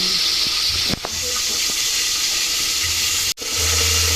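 Ingredients for pinakbet fry in hot oil with a continuous loud sizzle and hiss, broken twice by brief sharp cuts, with faint clatter and low rumbles in the background.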